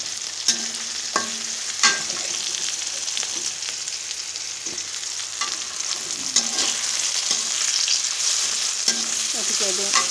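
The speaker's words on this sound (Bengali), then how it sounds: "তো আমার বেগুনটি ভাজা হয়ে গিয়েছে।" Eggplant fries in a pan with a steady sizzle, broken by clinks and scrapes of stirring at irregular intervals.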